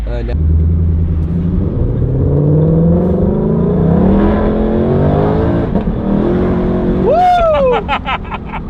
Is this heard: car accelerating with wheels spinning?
yes